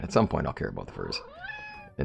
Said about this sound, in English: oh, that's my cat. My cat's saying hi to y'all.